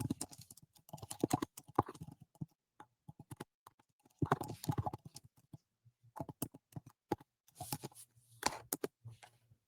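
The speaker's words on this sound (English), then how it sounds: "I'm gonna type that in" Computer keyboard typing comes in irregular bursts of sharp clicks with pauses between, close and fairly quiet, while a person speaks quietly in between.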